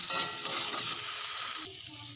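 Spices with salt, turmeric and chili powder being stirred and sautéed in a kadai with beans and egg, a steady close sizzle with scraping stirs that eases slightly near the end.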